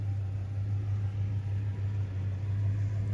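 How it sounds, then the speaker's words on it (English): A boxy Chevrolet car pulling in with a steady low engine rumble, close and continuous, no talking over it. "Drive it in, Chris."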